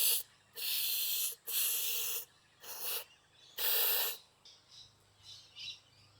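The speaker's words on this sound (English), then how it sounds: "Spray a good amount into here." An aerosol spray can of clear coat hisses in several long bursts, close and loud, with short pauses between sprays and softer hisses at the end, while fitting pit bike handlebar grips.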